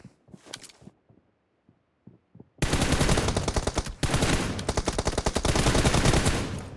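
Gunshots in the video game PUBG Mobile during a team deathmatch: a few faint scattered sounds, then sustained loud rapid automatic fire in two long bursts with a brief pause between them.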